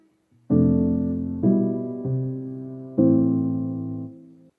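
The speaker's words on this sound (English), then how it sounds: "I came in with the soft piano from Labs playing this melody." Soft piano chords from the Labs soft piano play a slow melody, four gentle strikes each ringing out and decaying, with no other sounds.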